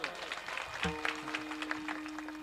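A crowd at a Marathi kirtan gathering claps in a dense, continuous patter. The applause sounds moderately distant, with a held tone and some voices mixed in.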